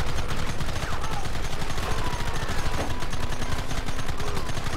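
In the video game Red Dead Redemption, a turret machine gun rattles in sustained rapid bursts, loud and dense, with battle noise layered underneath throughout.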